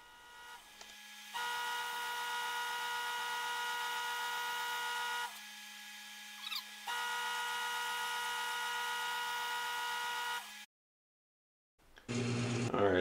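A lathe boring tool cuts a cast iron bar to make a new main spindle bearing, giving a steady loud tonal whine with harmonics that runs in long stretches, stops briefly, resumes, then cuts off before a short final burst.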